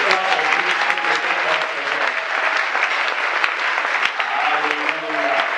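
Church congregation at a Sunday service applauding enthusiastically, continuous dense clapping at a steady loud level with a few faint voices mixed in throughout.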